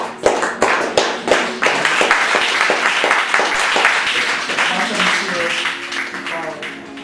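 Audience applause at a poetry reading with music at an art venue in Chicago: a burst of dense clapping from a crowd that builds quickly, then thins and tapers off while voices murmur underneath.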